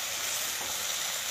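Melting jaggery for drumstick pickle is stirred in a hot pan, making a continuous close sizzle with soft frying crackle and no voices.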